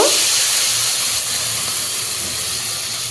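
Loud steady sizzling hiss fills the whole stretch as a little water goes into masala frying with ground coriander, cumin and Kashmiri chilli powder for a banana-flower bora curry, close and constant.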